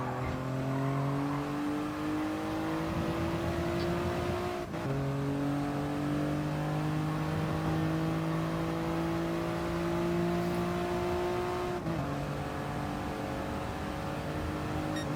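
A Toyota GR Yaris race car at Fuji in GT Sport roars close and loud, its engine pitch climbing steadily with two clear gear-shift dips, and no voices over it.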